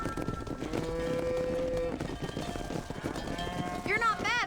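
Cattle herd being driven on a ranch in Red Dead Redemption, with a steady mix of lowing and hoof movement under a music bed and ambient game sound.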